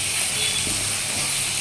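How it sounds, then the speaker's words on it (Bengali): Potatoes fry with added spices in a pan, giving a steady close sizzle and hiss that continues unbroken, with no talk. "তো এখন আমি মশলাটা অ্যাড করলাম, এরপর আমি এটা কষিয়ে নেব।"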